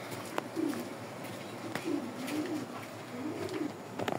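A pair of club racing pigeons coo softly in a loft, three low rolling coos spread across the stretch against a steady background hiss with faint clicks, fairly close and without talk.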